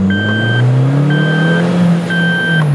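A Suzuki Jimny with a throttle controller accelerating, its engine droning loud and close as the revs climb smoothly, with periodic high beeping tones over the engine and no voices.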